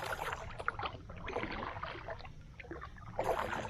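A kayak is paddled early in the morning, with soft splashes and water swishes from the strokes coming close and fairly faint in an uneven rhythm.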